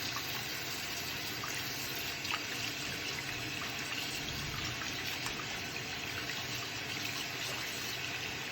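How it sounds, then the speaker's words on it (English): Hands being rinsed under a running kitchen or bathroom tap during a hand-washing routine: a steady, continuous stream of water splashing throughout, close and even in level, with no talking. "when you rinse, typically you want to come from the wrists and go down to your hands, fingers, letting that drip off"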